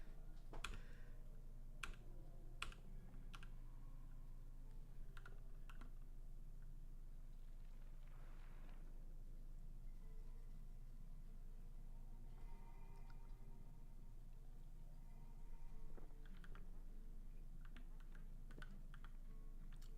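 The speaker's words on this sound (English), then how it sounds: "Y'all like my loud keyboard?" Clacky keystrokes on a loud computer keyboard, typed in irregular bursts with pauses, close up over a faint steady hum.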